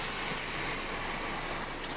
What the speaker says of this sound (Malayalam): നല്ല മിന്നലോട് കൂടിയ നല്ല കനമുള്ള മഴ.